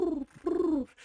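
A barn owl gives two drawn-out, harmonic calls whose pitch sags toward the end, close and moderately loud, with a short pause between them and no other sounds.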